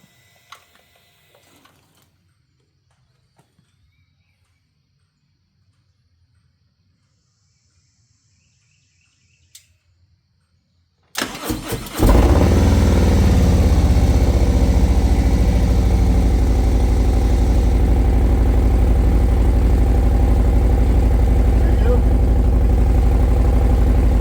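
A 2024 Harley-Davidson Road Glide motorcycle fresh from an oil change starts after a long near-silent pause, then settles into a loud, steady, close-up idle rumble that fills the rest of the clip.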